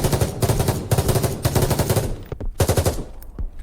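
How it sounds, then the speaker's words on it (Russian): Rapid bursts of gunfire in Battlebit Remastered ring out in quick succession, sharp and reverberant inside a building, with brief pauses between volleys and a short echoing tail. "Выстрелы в помещении будут более звонкими и с небольшим эхом"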